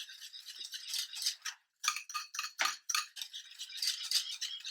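A utensil scrapes and stirs banana pudding rhythmically against a pot, a quick repeating swishing with one brief pause, close by and fairly quiet.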